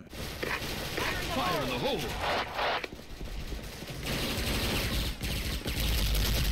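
FA-MAS rifle fire in the video game Special Force rattles in rapid, loud, sustained bursts, mixed with a person talking over the game noise.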